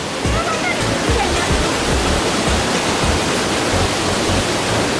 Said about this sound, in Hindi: देखिए वाटरफॉल का नज़ारा ये है